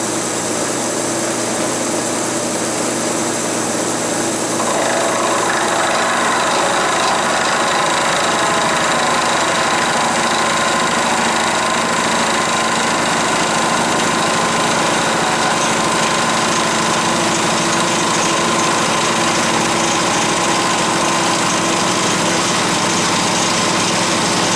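A lathe with a homemade cut-off tool takes a cut about fifteen thousandths of an inch deep, giving a loud, continuous machine drone that turns brighter and harsher partway through, with no talking.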